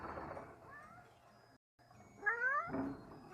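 A cat meows in a short series of whining, rising calls, loud and close, with a steady low background hum and a brief silent gap midway.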